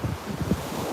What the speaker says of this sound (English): See the ocean.